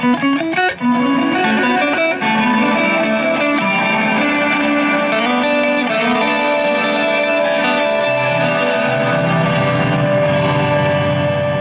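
An Electro-Harmonix Oceans 3-Verb reverb pedal at an extreme setting turns played guitar notes into a dense, echoing, delay-like wash that sustains loudly and continuously throughout.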